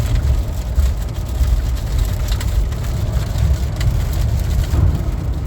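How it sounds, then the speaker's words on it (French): Rain drums on a car driving along I-70 through the Colorado mountains, a loud constant patter and rumble of road noise filling the cabin throughout with no talk. "La pluie qu'on a en ce moment, ben, c'est ces petits nuages-là qu'on pogne."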